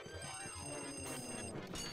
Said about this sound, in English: Why are their telephones ringing in the hallway?